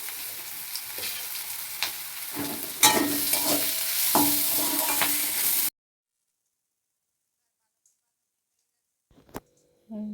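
Onions frying in a small amount of oil until browned, a steady close sizzle with scraping stirs for about five seconds before it cuts to near silence and a brief clatter near the end.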